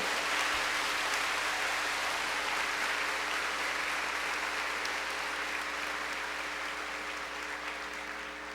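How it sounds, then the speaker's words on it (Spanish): Congregation applauding in a church during a Catholic priest's sermon, a soft, even, rain-like wash of many hands heard faintly from a distance, continuing steadily with a low hum underneath and no talking. "Denle un aplauso al Señor por ese presupuesto."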